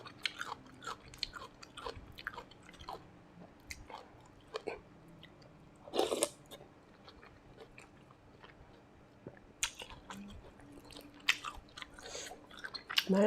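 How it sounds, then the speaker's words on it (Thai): Someone eats Thai nam tok pork noodle soup with yellow egg noodles, fried garlic and crispy pork rinds, giving soft, quiet chewing and biting with occasional louder crunches, close up and without talk. "จ้ากินก๋วยเตี๋ยวน้ำกันผู้ใดกำลังหิวอยู่"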